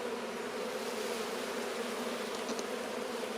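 A dense, steady buzzing hum from a mass of Italian honey bees inside an open hive during an inspection, close and continuous with no pauses.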